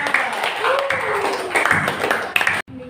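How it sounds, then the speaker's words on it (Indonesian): Classroom applause during a lesson on saving electricity: a burst of hand clapping from students, moderately close, mixed with voices and chatter before ending abruptly. "Kalau gitu tepuk tangan untuk Bapaknya Mas."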